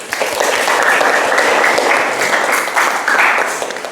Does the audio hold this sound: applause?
yes